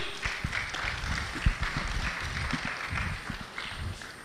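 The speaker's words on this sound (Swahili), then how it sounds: "Naomba tumpigie makofi." Audience applause at a youth science and technology summit, a crowd clapping steadily for a few seconds with scattered sharper claps.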